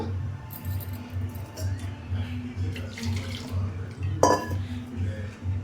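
Water poured into a Kerala-style fish curry in a pot, a steady close trickle and splash that runs throughout, with one brief louder splash near the end.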